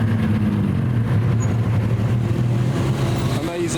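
A McLaren F1 GTR Longtail race car engine runs steadily with a deep, loud, continuous drone that holds even and close throughout, rising slightly near the end.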